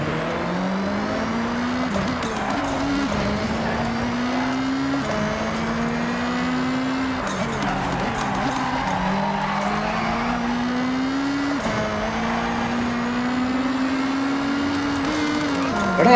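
A race car in the video game Forza drives and skids, its engine tone rising and falling through repeated gear shifts with tire squeal under steady, close-up engine noise and no talk.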